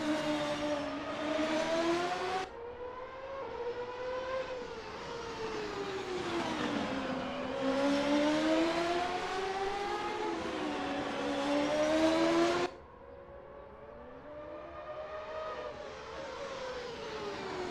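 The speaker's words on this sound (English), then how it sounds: "There's not much better than sitting near here and watching the cars speed by." CART race cars scream past on the Long Beach street circuit in a racing game, with high rising and falling engine whines in continuous near passes and an abrupt cut to a quieter engine tone.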